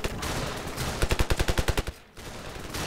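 Rapid burst of automatic gunfire from the video game Ravenfield, about a dozen sharp evenly spaced shots in quick rhythm over steady game background noise, then a brief drop before the ambience returns.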